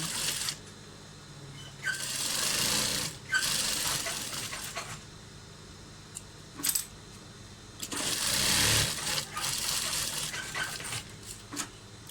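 Sewing machine stitching a cloth face mask, running in several loud bursts of a few seconds each, separated by short pauses, with no talking.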